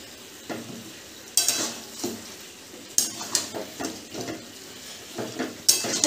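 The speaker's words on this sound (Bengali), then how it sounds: "এখানে মাংস কষাতে বসিয়ে দিয়েছি" Meat for a Bengali kosha curry sizzles in a pan while a spoon stirs and scrapes it. Faint frying hiss runs under repeated clinking strokes against the pan, with a few sharper scrapes.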